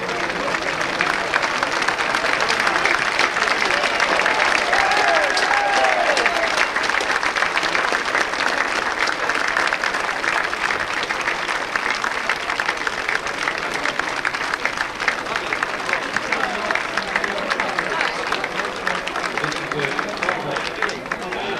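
Sustained applause and cheering from a racecourse crowd greeting a winning two-year-old filly at the Nunthorpe Stakes, broad and steady throughout, with a commentator talking over it.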